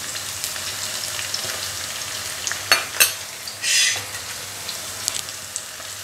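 Ginger garlic paste fries in a pan with a steady close sizzle, broken by a few sharp pops and a brief burst of louder spitting midway, with no one speaking.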